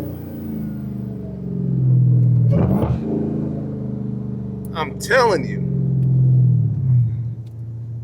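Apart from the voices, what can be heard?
car engine revving and gear shifting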